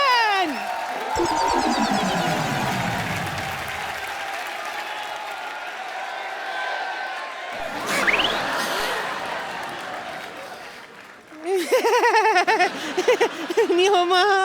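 Studio audience on The Kapil Sharma Show breaks into loud applause and cheering to welcome a guest, sustained clapping swelling with crowd noise, under musical sweeps and effects.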